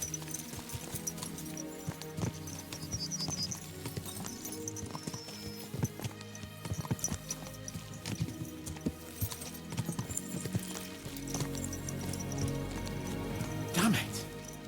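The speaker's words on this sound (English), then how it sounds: "Let's really spur these horses on, eh?" Horse hooves clip-clop at a steady gallop in the medieval video game Kingdom Come: Deliverance II, with occasional neighs, game music and someone talking over the hoofbeats.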